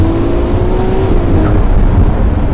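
A Ferrari 296 GTS accelerates hard in race mode, its engine droning loudly and steadily from inside the cabin with a rising tone, no speech.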